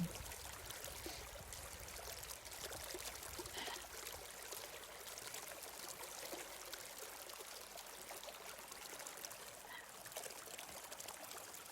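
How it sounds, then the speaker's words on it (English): Stream water trickling and pouring in a continuous, even flow, very quiet and with no voices over it. "as the stream gurgles and runs and splashes"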